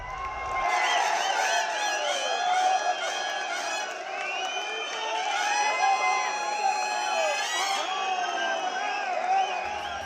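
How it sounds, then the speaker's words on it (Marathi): Farmers cheer and celebrate at the Yashwantrao Chavan Centre in Mumbai, a dense crowd of shouting, whooping voices that holds steady and loud for the whole stretch. "मुंबईतल्या यशवंतराव चव्हाण सेंटरमध्ये शेतकऱ्यांनी केलेला हा जल्लोष"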